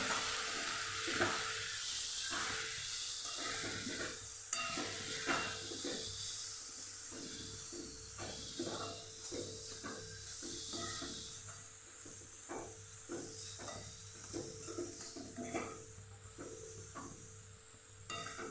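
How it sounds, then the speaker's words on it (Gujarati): Spice mix of coriander-cumin powder, turmeric and salt sautéing with green onions for a Kathiyawadi dish, giving a long, soft, steady sizzle and hiss with faint intermittent stirring scrapes. "બધું સરસ મિક્સ કરી અને સાતળી લેશું આપણે"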